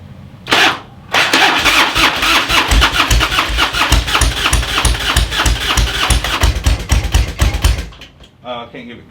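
A Harley-Davidson Street Glide motorcycle is being started without the choke. A short cranking burst is followed by a pause, then a long run of rapid, rough, sputtering firing pulses that suddenly cut out, with a voice afterward.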